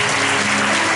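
A church congregation claps loudly and continuously, a dense, close wall of applause filling the whole moment.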